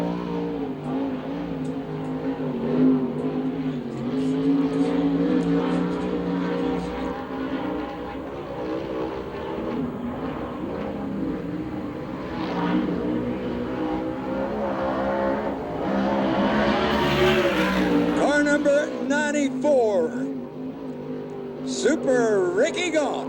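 A USAC/CRA sprint car runs a qualifying lap at the Hall of Fame Classic in Phoenix, its engine droning and shifting pitch as it rounds the track, steady and loud beneath a public-address announcer who talks throughout.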